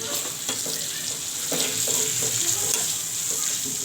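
Chopped onion fries in a pan with a steady close sizzle, broken by a series of soft scraping stirs and taps, with no talk over it.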